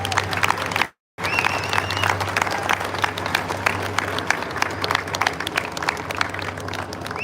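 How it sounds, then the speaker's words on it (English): A crowd at the Kindig custom car show awards at the Adelaide 500 claps for the top five cars, a sustained, busy patter of many hands with a low background hum and a brief dropout near the start. "I think they deserve a big round of applause."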